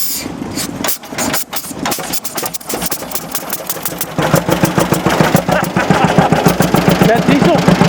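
A big-displacement gasoline engine at an engine show is pull-started, coughing and sputtering through a rough start before settling into a loud, heavy, rhythmic chugging run close by, with voices partly under it.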